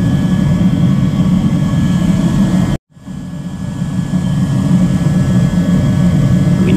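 PowerMat 30 kW heater warming a garage produces a loud, steady broadband fan roar that cuts out abruptly for a moment, then rises back to full strength.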